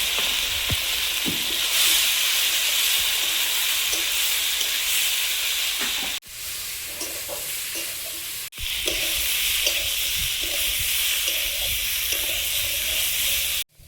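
A paste of ground salt, garlic, cumin and dry chilli frying in a pan, giving a steady, loud broadband sizzle with occasional stirring clicks and two brief breaks, no talk.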